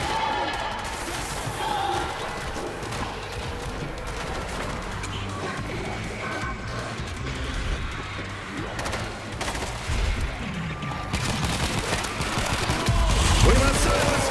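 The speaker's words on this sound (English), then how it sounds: "Machine gun is ready!" Sustained machine gun fire rattles through a dense, chaotic World War Z video game battle in Moscow. Explosions and crashes mix into the din, and shouted voices come through over the steady roar.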